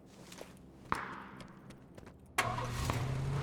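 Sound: car engine starting and driving in a video game

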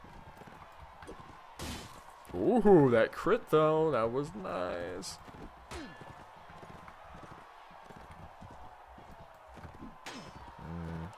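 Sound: horse hooves clip-clopping in 12th Century mod video game

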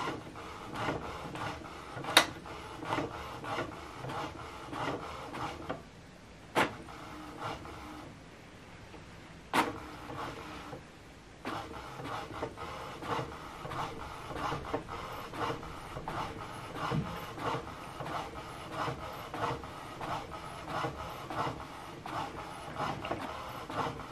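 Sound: HP DeskJet 3762 printer printing a page sent from phone

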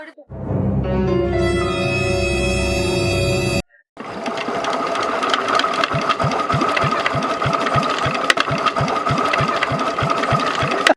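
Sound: hand-cranked machine being operated by its handle

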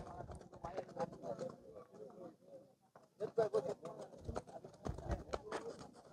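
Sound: horse walking on hooves at a horse fair

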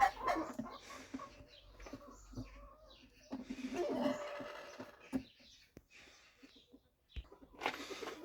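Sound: gray Ataks chickens in a coop

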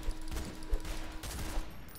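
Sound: pistol bullets being sliced back with a sword in Roblox game

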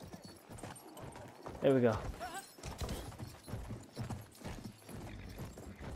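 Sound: horse galloping in video game Battlefield 1

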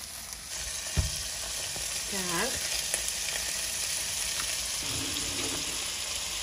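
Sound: beef burger patties frying in a pan

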